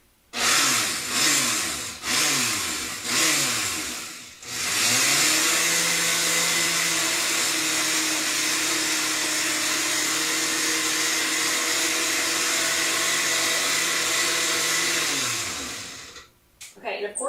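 A food processor pulses peaches in several short whirring bursts, then runs in one long continuous loud whir before stopping, close by.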